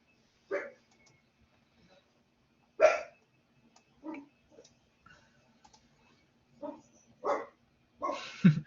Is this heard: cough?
no